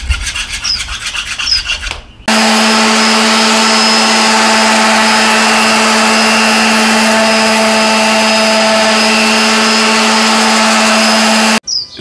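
Power sander running on a wooden cutting board, a loud, steady electric whine with a constant hum that starts abruptly after a short quieter bit and cuts off near the end, close up, with no talk.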